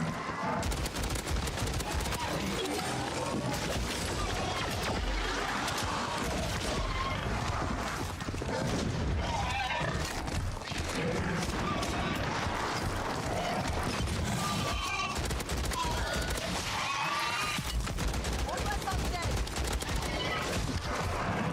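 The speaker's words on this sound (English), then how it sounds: "I just realised this thing's a fucking burst fire weapon" Burst-fire weapon shooting in Call of Duty MW3 Zombies, with dense, continuous gunfire and crashing impacts that stay loud for the whole stretch, with talk over them.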